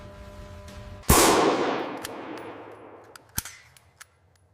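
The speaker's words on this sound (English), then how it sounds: "The proof round is fired." A Glock 19 proof round fired during factory testing: one sharp, loud gunshot with a long echoing decay, followed by a few fainter metallic clicks and clanks.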